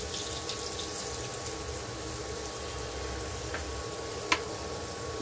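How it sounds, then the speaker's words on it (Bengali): Potato pieces fry in a pan with a faint, even sizzle that stays soft and constant throughout, broken once by a brief clink near the end. "দেখতেই পাচ্ছ আলু ভাজা হচ্ছে"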